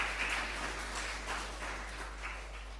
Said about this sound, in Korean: 그분들에게 또 잘 다녀오시라고 박수 해주시기 바랍니다